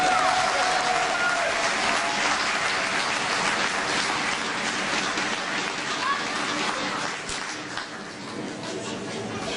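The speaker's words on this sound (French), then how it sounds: "Donc, des applaudissements pour nos militants qui le méritent." A crowd at a 2014 municipal election campaign rally in Asnières applauds its activists, sustained dense clapping filling the hall for several seconds before easing slightly near the end.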